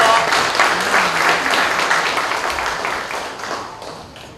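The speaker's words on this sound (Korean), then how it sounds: "네, 큰 박수 부탁드립니다." Applause from an audience at a university labor union's annual general meeting, a dense and steady wash of many hands clapping, loud throughout and slowly tapering toward the end.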